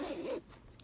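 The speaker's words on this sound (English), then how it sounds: "It has a zipper on the top too." A zipper on the top of a roomy fabric diaper bag is pulled in one short, close rasping run, followed by quiet.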